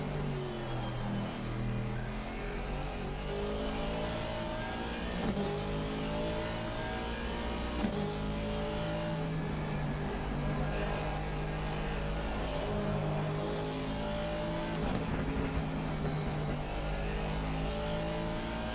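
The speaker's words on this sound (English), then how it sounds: "I love the sound of this Aston." A loud Aston Martin GT3 race car engine in a racing video game roars continuously at Watkins Glen, pitch rising and falling through gear shifts, with other engines faintly in the background.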